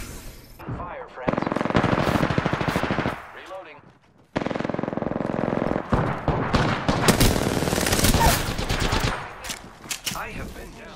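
Bursts of rapid automatic gunfire in the battle royale game Apex Legends, loud and close, coming in several volleys separated by short pauses, with a voice speaking over parts of it.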